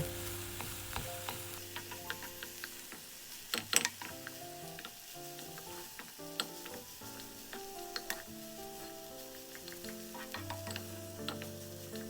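Rice stir-fried in a pan for omurice crackles softly, with repeated scraping strokes of a spatula and a few sharper knocks against the pan, background music playing underneath, no talking.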